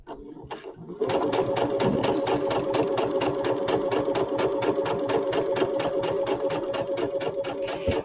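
A sewing machine runs continuously at steady speed while piecing quilt fabric with a standard piecing foot, a rapid even whirring stitch rhythm starting after a brief quiet moment and carrying loud and close to the end.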